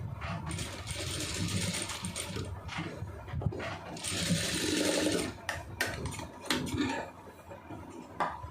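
A sewing machine runs a seam along the folded edge of a blouse armhole. Close, fast mechanical stitching comes in several bursts, separated by brief pauses and small clicks of handling.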